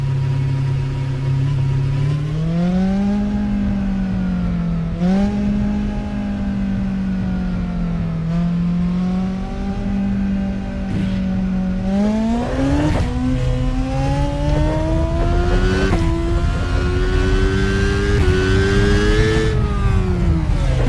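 Race car in the rFactor 2 racing simulator, a loud engine revving up through gears with rising pitch sweeps and brief drops at each shift, continuous for about twenty seconds with no talking.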